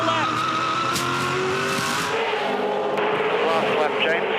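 Supercars race cars scream past on the final lap at Bathurst, engines loud and close with tyre squeal, while a commentator talks over the action.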